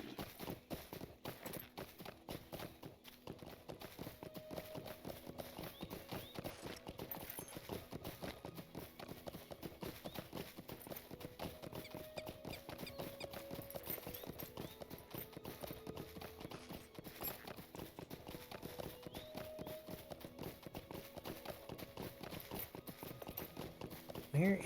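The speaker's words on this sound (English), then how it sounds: "Let's use our horse." Steady clip-clop of horse hooves from a mount ridden in the online game Lord of the Rings Online, a continuous galloping rhythm running throughout, mixed with game music and ambience.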